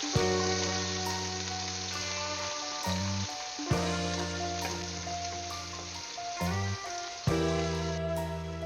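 Chopped ginger, green chili and garlic frying in hot oil in a pan, a broad steady sizzle with a few stirring clatters, close and continuous while music plays over it.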